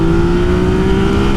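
A Yamaha XSR900 motorcycle accelerating at full throttle, its loud, close engine producing a strong sustained droning tone in one brief burst.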